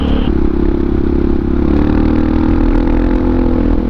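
A Honda XR650R supermoto motorcycle carries a steady loud engine drone while riding along a road, the single-cylinder note holding at a constant pitch with wind rush and no voices.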